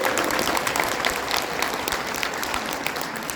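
Sustained applause from a sizeable seminar audience, dense and steady clapping at close range with no voices on top.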